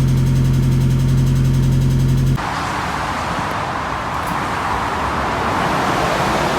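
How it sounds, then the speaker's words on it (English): A car running on a newly installed Odyssey Extreme PC680 lightweight battery: a steady idle hum gives way abruptly to a broad, continuous road and engine rumble as it drives off, close and moderately loud, with no talking. "Let's go give it a little test drive."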